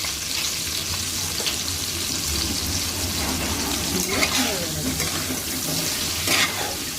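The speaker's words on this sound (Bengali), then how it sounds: "আলুগুলো দিয়ে নেড়ে নেব।" Potato pieces fry in hot oil with salt and turmeric for a Bengali mutton jhol, giving a steady, close sizzle with scraping stirs throughout and no speech.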